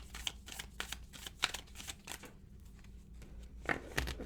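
Tarot cards shuffle in quick riffling bursts, a papery flutter repeated several times with a short pause midway, close but faint, without talk.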